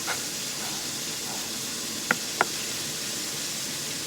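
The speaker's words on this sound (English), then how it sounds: "I just love that sizzle." Chicken sizzles steadily in a hot pan, a soft continuous hiss with two sharp pops of spattering fat midway.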